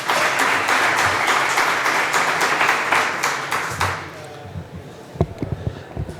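A conference audience applauds to open a presentation on robotization and artificial intelligence in the public sector: dense, steady clapping for about four seconds, then dying away into a few scattered claps and knocks.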